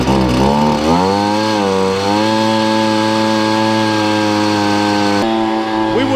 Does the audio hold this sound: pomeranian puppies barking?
no